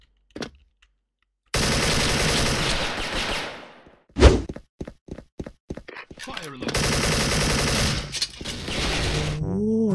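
An Aurora AK74 2nd Gen airsoft rifle fires long rapid bursts in close, loud rattling strings, broken by a sharp bang and a run of separate shots before another sustained burst.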